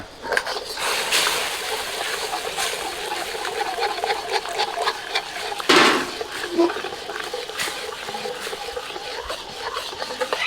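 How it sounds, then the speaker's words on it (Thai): Tapioca starch slurry poured into a simmering broth for stewed pork leg, a soft splash and slosh in a kitchen pot, with utensil clinks and faint background sounds around it. "แป้งมันละลายกับน้ำนะครับ ใส่ลงไปก็จะทำให้น้ำของเราเนี่ย เหนียวหนืด ใส่ลงไป"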